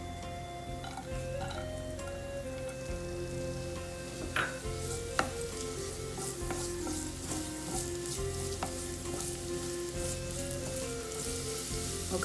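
Thinly sliced onion sizzles steadily in deep-fry oil in a pan, a continuous close crackle with a few sharper pops and light stirring clinks, no voices.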